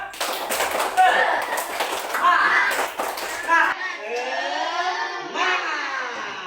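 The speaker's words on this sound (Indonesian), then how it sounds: "Oke, sekarang semua tepuk semangat" A class of children in a religious lesson does a spirit clap, with rhythmic hand claps under a voice talking, then shifting into a sung chant toward the end.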